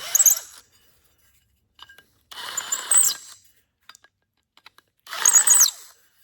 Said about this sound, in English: Use a chamfer bit if you have them. It makes it nice just to real quick around the edges.